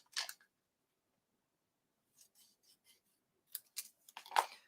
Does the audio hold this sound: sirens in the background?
no